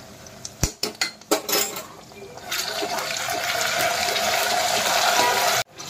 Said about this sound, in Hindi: अब मैं इसमें अदरक लहसुन का पेस्ट ऐड कर रही हूँ।